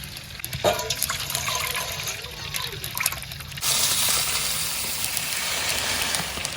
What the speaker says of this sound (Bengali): আমি এদিকে এবার বাসমতি চালটা ভিজেই নেই কিছুক্ষণের জন্য